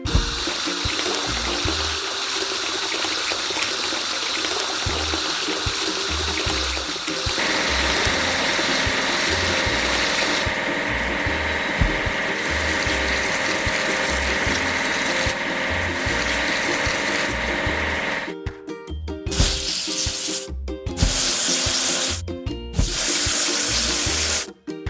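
A kids' video game car wash plays a continuous bright spray of water over looping mechanical clicks and game music, which cuts out near the end into a few short, choppy bursts.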